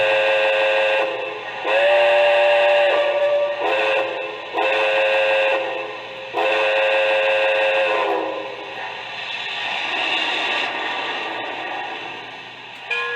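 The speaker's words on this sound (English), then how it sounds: "let's check out the whistle" A K-Line two-truck Shay toy steam locomotive whistle toots several times in short and longer blasts, bright and close, then trails into a softer steamy hiss.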